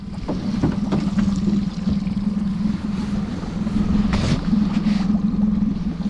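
A small Ural outboard boat motor drones steadily nearby with a low hum, mixed with light splashing and a few knocks and bumps, on a fishing trip.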